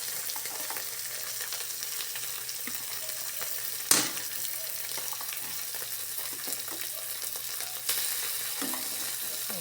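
Shrimp frying in a pan with onion and garlic, a soft continuous sizzle with one sharp clatter partway through and light stirring noises, faint and without speech.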